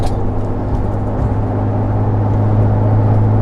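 A Toyota Tacoma with an aftermarket exhaust cruises at 55 mph and about 2000 RPM, giving a steady, loud low drone with an even hum that holds throughout.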